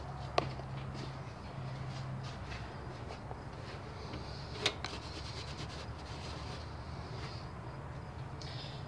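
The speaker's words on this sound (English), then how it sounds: "And just kind of sand around it a little bit," Sandpaper is rubbed by hand around a painted blower motor part to take off paint, making a continuous close scratchy rasp with a couple of sharp knocks.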